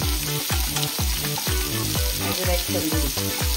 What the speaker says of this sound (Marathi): दोन्ही साईडने असं आपल्याला फ्राय करून घ्यायचं ते.